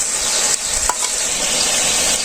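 Vegetables fry in heated oil in a village kitchen, a loud continuous sizzle running throughout with a few brief stir clatters, no voices.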